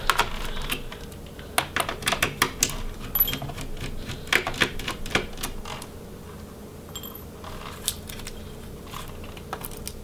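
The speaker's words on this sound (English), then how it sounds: "we can finish removing these screws and remove that fan" Small sharp clicks and ticks of screws being removed from the fan of an Asus G752V laptop, irregular bursts clustered in the first half then thinning out, close and alone over quiet room tone.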